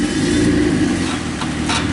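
2006 Hyundai Sonata with a drive fault, engine running as the car is put in reverse, a steady close low hum with a slight rise and no speech.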